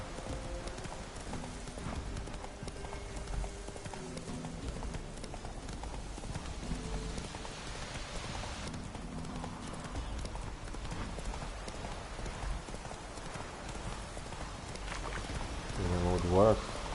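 Roach the horse in The Witcher trots with a steady clip-clop of hooves that carries on throughout, alongside rain falling on surfaces.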